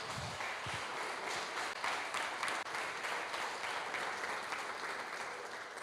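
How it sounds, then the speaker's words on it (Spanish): Steady applause from a church audience at a Bible-study lecture on Hebrew culture, a dense even patter of many hands clapping at moderate distance, holding at a constant level for several seconds with no talking over it. "le doy un aplauso"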